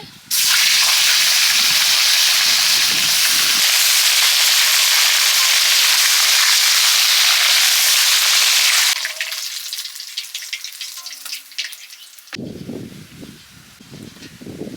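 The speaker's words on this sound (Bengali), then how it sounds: "তেল গরম হয়ে গেছে এক এক করে মাছগুলো ছেড়ে দিচ্ছি" Fish pieces dropped one by one into hot oil in a pan for a lilantica fish curry erupt into a loud, close, roaring sizzle that later settles into a softer, steady crackle.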